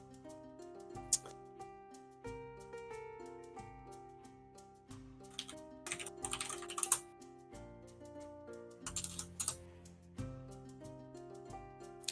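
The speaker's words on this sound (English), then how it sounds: "Not sure if Game Lover is in the Twitch, so I respond by typing there instead" Clicking keystrokes on a computer keyboard in quick irregular bursts, close and fairly quiet, with steady music playing underneath.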